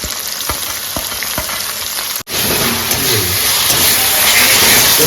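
Ground onion paste and spices frying in a pan while being stirred, a loud, close, continuous sizzle with a sharp hiss surge after a brief clatter partway through.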